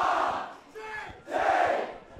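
A Southport School crowd in the Nathan Sharp Leadership Grandstand roars in two loud surges of massed voices, briefly dipping between them.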